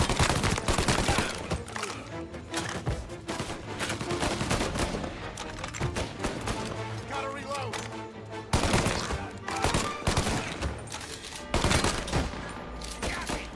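Tommy Gun fire in Mafia: Definitive Edition crackles in rapid bursts of loud gunshots, with short pauses between volleys and faint game voices underneath.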